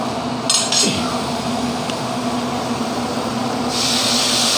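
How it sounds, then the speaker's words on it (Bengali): Lentils (dal) go into spiced masala in a pan, with a clatter of utensils, then a steady background hiss and a brighter sizzle rising near the end. "ডালটা দিয়ে ভালো করে নাড়তে লাগবে, মশলা যাতে মিশে যায়।"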